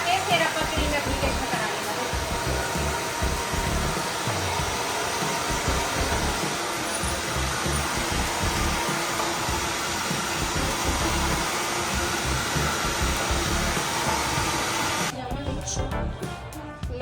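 A hair dryer blows steadily on hair during a rebonding straightening treatment in a salon. The loud continuous whoosh runs under a person talking and cuts off near the end.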